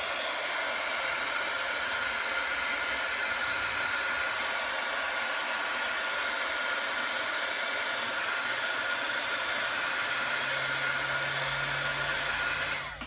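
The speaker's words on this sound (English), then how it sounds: "I do have a heat gun that I'm going to try to dry between layers" Steady, loud whoosh of a heat gun blowing air to dry layers of wet paper in a die-cut scrap craft project, running continuously throughout with no talking.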